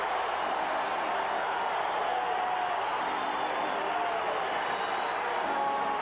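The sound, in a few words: basketball crowd cheering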